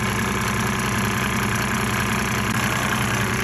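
A diesel engine treated with Diesel Purge and Diesel Kleen, running at a steady, rumbling idle with a constant mechanical clatter close by.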